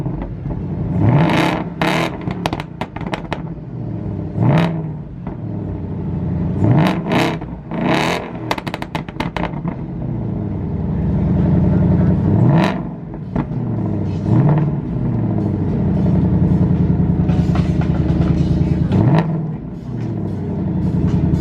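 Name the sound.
775hp Ford Mustang engine revving and driving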